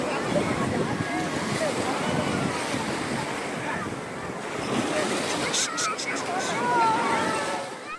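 Surf at Bheemili beach breaks in a constant broad wash of waves, roughened by wind buffeting the microphone, with faint voices mixed into the steady roar.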